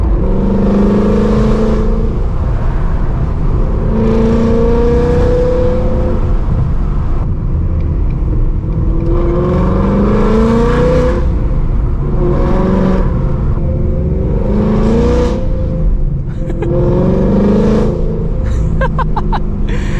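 A Ford Mustang GT with its exhaust valves open revs and accelerates repeatedly, loud rising engine roars swelling and falling in waves from inside the car.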